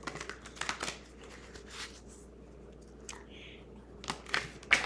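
Tarot cards being shuffled and handled, giving soft riffling and slapping bursts at uneven intervals with quiet pauses between, close by and fairly faint.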